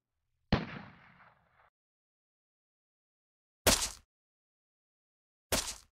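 Gunshots in the game Dust to the End: one booming shot with a trailing decay, then after a long silence two sharp, separate cracks, each isolated and fairly loud.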